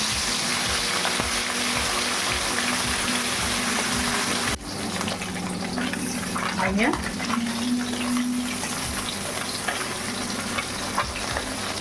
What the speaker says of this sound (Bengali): এবার আমি কড়াইতে মাছগুলো দিয়ে দিই